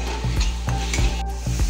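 Onions and capsicum frying in a pan under a constant sizzle, with a spatula stirring in regular scraping strokes about every quarter second, close and clear with no talking.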